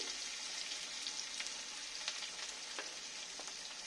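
Soft, steady sizzling of onions frying in oil until red, with faint crackles and pops scattered throughout, close by and quiet.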